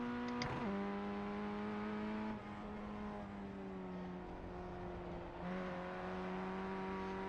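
A steady, droning race car engine in a speedway video game hums at a constant pitch, shifting slightly as it changes gear, with a brief blip near the start.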